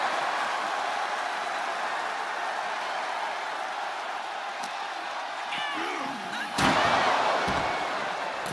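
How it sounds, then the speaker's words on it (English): A suplex slam lands in WWE 2K24 with one loud thud near the end, over a steady, roaring arena crowd, with faint crowd shouts. "Suplex, here it comes."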